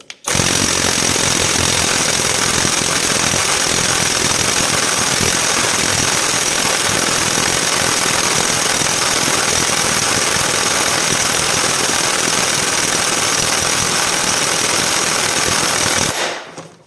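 A DEVETECH CIW cordless impact wrench hammers loudly and continuously at a 900 Nm setting, a dense, steady rattling that runs unbroken for about sixteen seconds with no voices.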